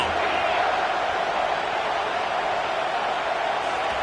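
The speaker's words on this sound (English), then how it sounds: "Decibels rising as the crowd gets behind this defense on third down." Roar of a college football stadium crowd during a Vanderbilt vs Alabama game on a third-down defensive stand, a steady dense wall of cheering noise sustained throughout without pause.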